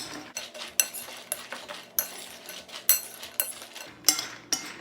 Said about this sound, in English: make sure that you stir well enough so that all of the pecans are completely covered and moist.